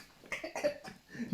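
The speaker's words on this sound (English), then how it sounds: "just coughing in the background" A few muffled coughs in the background of a podcast conversation, several short bursts in a row at moderate distance and low volume.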